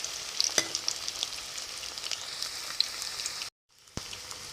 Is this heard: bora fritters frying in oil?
yes